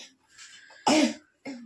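A person indoors gives a short cough with a raspy, throaty burst, followed by a briefer second cough, close and fairly loud against quiet surroundings.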